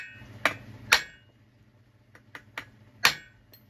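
Sharp hammer blows strike a flywheel part, likely on a Pioneer P-51 engine, to knock it free: three loud metallic hits, then a few lighter taps and one more hard blow, close and ringing.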